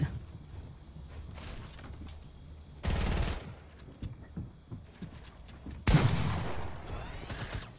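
Fortnite gunfire comes as two loud, close bursts of rapid shots separated by a few seconds, with fainter distant pops and shuffling movement sounds between them.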